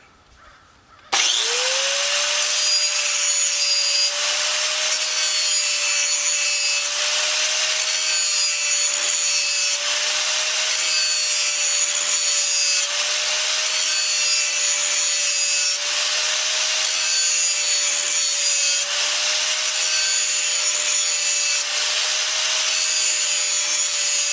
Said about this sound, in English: We're just going to grind it in really smooth.